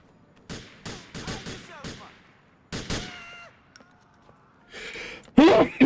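Gunfire in a GTA game: sharp rapid bursts of shots in quick clusters, then another volley and scattered impacts, loud and close, with a voice speaking between them.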